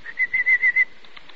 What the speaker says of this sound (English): Watch your canaries jump on their perch, Matthew.